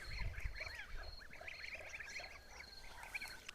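Kholmogory geese honking, a group of nasal calls repeating in overlapping bursts, moderately near but fairly quiet.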